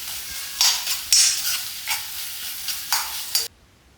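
Mixture being stirred into hot coconut oil for a Kerala-style stir-fry, with several bursts of crackling sizzle as a spoon scrapes through, close and moderately loud, then cutting off abruptly.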